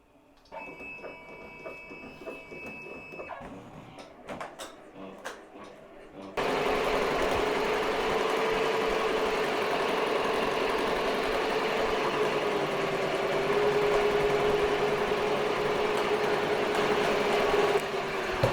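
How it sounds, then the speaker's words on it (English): An embroidery machine stitches out a design on a tote bag, a steady mechanical whir that starts abruptly partway in and runs loud and continuous to the end, with quieter handling sounds and faint talk before it. "I'm gonna go ahead and let her start stitching out."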